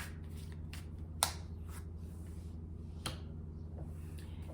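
Tarot cards are shuffled by hand in soft, quiet riffles, with two sharper snaps of cards landing, over a low steady background hum.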